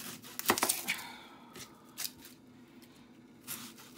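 Knife chopping an onion on a cutting board, a quick cluster of sharp cuts early on followed by a few sparse, lighter chops, close and moderately loud over a low kitchen hum.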